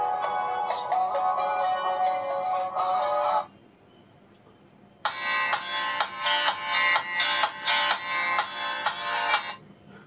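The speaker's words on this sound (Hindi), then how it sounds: "गाना प्ले वगैरह हो जाएगा कोई दिक्कत नहीं मिला गाने सुन सकते हैं" A song plays through the small speaker of a Jio Bharat 4G feature phone, sounding tinny and thin in two bursts of a few seconds each, separated by a brief quiet gap.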